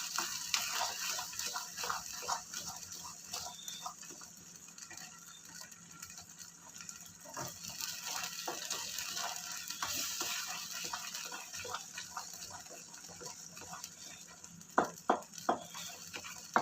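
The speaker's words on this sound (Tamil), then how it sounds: "முந்திரி வறுத்துட்டு" Cashews frying in a pan for kesari make a quiet, continuous sizzle, with scattered scraping stirs and a couple of louder knocks near the end.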